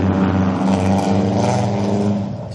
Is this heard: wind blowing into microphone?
no